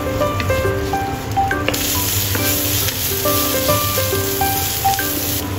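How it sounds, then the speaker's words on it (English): Chopped onion stir-frying in hot oil gives a loud, continuous sizzle close by, with soft scraping stirs and light clinks throughout and quiet background music. "Heat oil. Stir fry onion until translucent."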